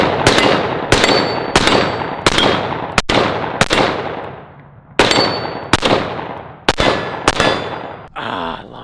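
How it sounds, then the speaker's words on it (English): Rifle fire at five steel plates on a speed rack: about a dozen sharp, loud shots, each followed by a ringing metallic clang, fired in two quick runs with a short pause between them. "I'm gonna shoot all 5 one way and all 5 going back the other way."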